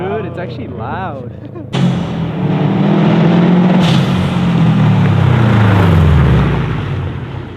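Subaru STI fitted with a new blow-off valve, heard from outside as the car runs: a loud, sustained engine roar with a rising and falling pitch and a sharp burst near the middle, with faint voices at the very start.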